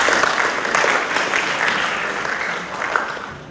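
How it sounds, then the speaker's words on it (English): Audience applause fills an awards ceremony for school sports, a steady, dense clapping close by that holds at even loudness for the whole stretch, with no voices over it. "You can give yourself a clap now."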